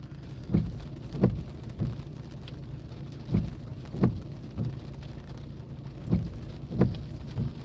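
Steady heavy rain drums on a car traveling Highway 95 from Virginia toward New Jersey, with a continuous wash broken by recurring thumps of spray or wiper strokes about every half second to second, no talking.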